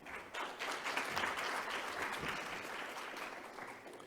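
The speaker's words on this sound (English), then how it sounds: "Another round of applause, please." Steady audience applause follows a keynote presentation at an ethics day event, a dense wash of clapping sustained for the full few seconds at moderate level.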